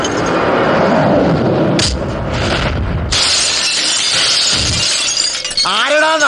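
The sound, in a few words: car window glass shattering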